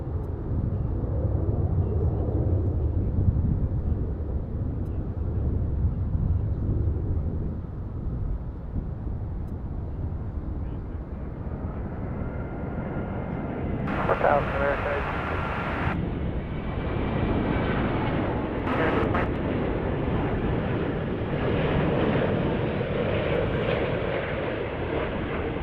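An airliner roars on approach at DFW International Airport, a loud, sustained rumble of jet engines that swells and shifts as it passes, with wind noise and no speech.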